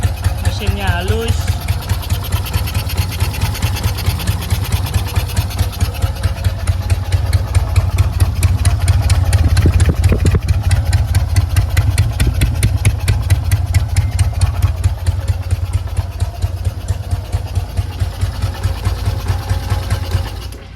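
A classic motorcycle engine idling smoothly, a steady rapid low putter that runs unbroken throughout, close and loud, with someone speaking over it.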